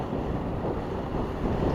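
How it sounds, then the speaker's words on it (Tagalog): Steady, strong wind roaring across the microphone, a constant broadband rush with no pauses. "parang malakas pa rin ang hangin dito"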